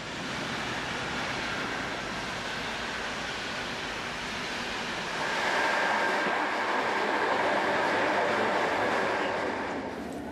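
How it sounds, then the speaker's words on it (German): A locomotive hauling eight restored nostalgic passenger wagons rolls past as a steady, loud broadband rumble that swells slightly louder toward the end, with no talk. "Der Zug bestand neben der Lokomotive aus 8 Waggons."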